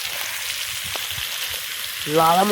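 Pork curry with chili powder frying and being stirred in a pot at an outdoor jungle picnic: a steady, moderate sizzle with faint scraping and stirring, and a brief voice at the end.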